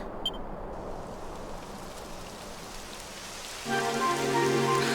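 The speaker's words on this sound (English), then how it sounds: "It would have to go and start raining, wouldn't it?" Steady rain patters on a surface, close and continuous, joined near the end by a sustained tonal hum with faint beeps, from the video game Dragon Quest XI: Echoes of an Elusive Age.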